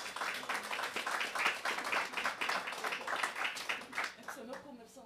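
Applause from a council chamber audience during an extra municipal council session in Londerzeel, a steady patter of many hands for about four seconds that thins out at the end.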